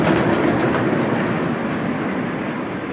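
Half-size locomotive Peggy on the South Downs Light Railway rolling past close by, a steady loud rumble with wheel clatter, no voices.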